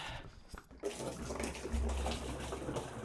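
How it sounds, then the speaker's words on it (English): Water from a 5-gallon jug pours into a rain barrel, a steady near splashing and gurgling rush that thickens after a short pause and keeps going without talk. "now it is time to fill it up with water"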